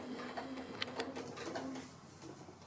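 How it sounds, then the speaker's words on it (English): A sewing machine stitches appliqué on a small banana shape, beginning with a few locking stitches; the motor runs faint and steady with light ticking clicks throughout. "So I'll just do a couple of stitches to lock off at the beginning"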